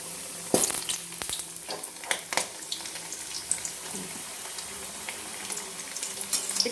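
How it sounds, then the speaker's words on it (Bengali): Cut potato pieces fry in hot oil in a pan over lowered gas flame, a steady close sizzle with occasional crackles and scraping stirs, no talking. "একটু ব্রাউন করে ভেজে নেব।"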